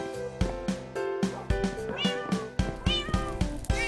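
Cats in the Minecraft video game meow repeatedly in short, close calls over rhythmic background game music.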